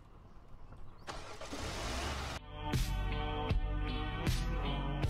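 A car engine in the Roblox game A Dusty Trip cranks with a loud hiss and rumble, then catches and settles into a steady idle with a few sharp rhythmic pulses, close and alone.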